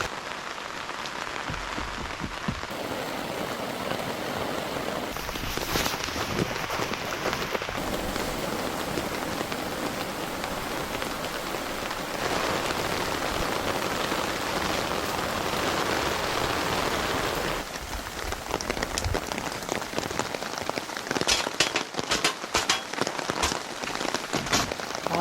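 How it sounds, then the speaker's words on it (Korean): Heavy rain during car camping pours down steadily in a dense, close hiss with scattered sharper drops and patters throughout, without pause. "와, 비 많이 온다. 비 많이 와요."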